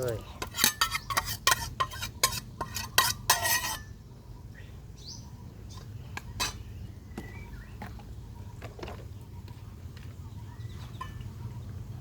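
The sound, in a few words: mashing canned fish into a konjac stem curry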